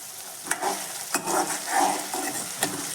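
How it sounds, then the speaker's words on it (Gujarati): Green pigeon peas cook in hot oil in a pan, giving a soft steady sizzle broken by several sharp scrapes of a spoon stirring against the pan, close and quiet, with no talking. "હવે દાણાને તેલની અંદર જ થોડાક અધકચરા ચડી જાય એવી રીતના ચડવા દઈશું."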